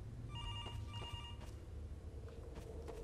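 Telephone ringing inside the horror game Garry's Mod: Undying, a repeated electronic bell tone in short bursts over a steady low background rumble, with no talking.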